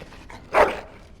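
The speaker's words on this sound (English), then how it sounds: "Bloody dog." A dog in the video game Dragon Age: Origins gives a single short bark or yelp at mid-range, standing out briefly from a quiet background.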